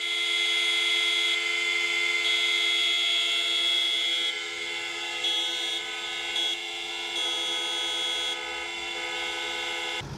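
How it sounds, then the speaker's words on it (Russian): Many car horns blare together in the Abkhazian capital in memory of those killed on the mountainside at Lata. They form a loud, sustained, overlapping drone that holds steady for the whole stretch, with no voices. "над столицей разнесся звук автомобильных гудков в память о тех"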